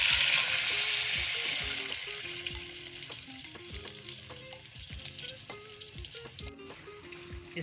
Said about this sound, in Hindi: इसको अच्छी तरह भूनना है और हाथ नहीं छोड़ना, ये नीचे लग जाती है।